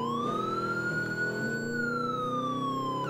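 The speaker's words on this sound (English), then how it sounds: "Get out of my way, I'm an ambulance!" A wailing ambulance siren in a video game rises and falls steadily, loud and continuous, with a low engine rumble beneath.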